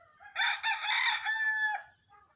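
A young stag rooster with a straight comb crows once, loud and close, a drawn-out call of about a second and a half, with faint clucking at the tail and otherwise quiet surroundings.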